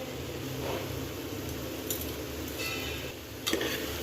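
A spoon stirs masala through vegetables in a pan for vegetable brinji rice, giving soft scraping and a few light metal clinks against the pan over a quiet kitchen background.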